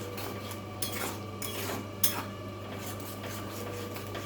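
Spice paste for a rohu fish kalia being stirred and fried in a pan, steady scraping and sizzling with occasional sharp clinks of a spatula against the metal, close and alone without talk.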